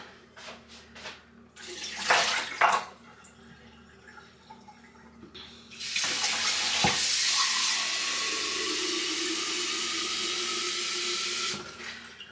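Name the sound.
tap water running, filling a container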